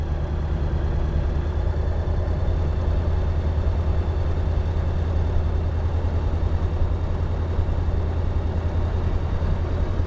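An engine runs steadily, held at 2500 RPM, producing an unbroken, loud, low drone with constant rumble and no changes in pitch or any voices.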